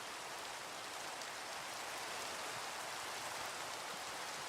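Steady rain in TerraFirmaCraft, a Minecraft mod, a dense even hiss of falling drops that stays constant and soft throughout, with no voices.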